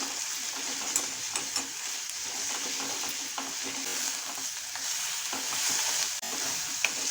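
Onion with ginger garlic paste sautéing in a pan for a prawn masala, giving a steady close sizzle with occasional light stirring scrapes and clicks, no voices.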